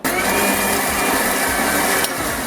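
A mixer grinder whirs loudly and steadily, crushing mustard seeds into ground coconut for Kerala-style beetroot pachadi, a dense close motor roar that runs briefly without pause.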